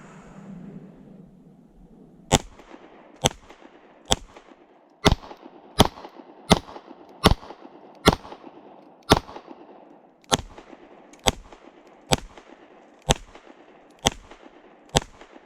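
A CZ Shadow 2 Compact pistol fires about fifteen sharp shots, first spaced about a second apart and then at a quicker, steady pace, each crack loud and close with a brief echo between.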